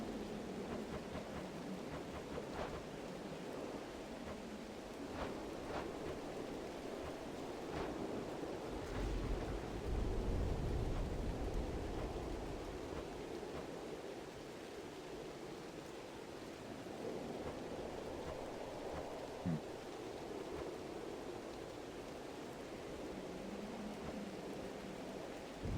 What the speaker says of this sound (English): the terrifying storm tearing apart the fortress of the gods starts to relent